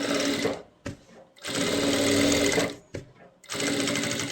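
A sewing machine stitching round a deep ladies' neckline in three bursts of rapid close mechanical whirring, separated by short pauses.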